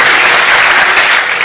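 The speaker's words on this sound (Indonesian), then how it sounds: "Tepuk tangan bagi Tuhan." Loud, dense applause fills a church service, many hands clapping together in a continuous close wash with no pause.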